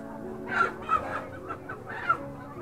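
Chickens cluck at a morning market in Kengtung, with several short, bright calls rising and falling over a steady background murmur of market noise.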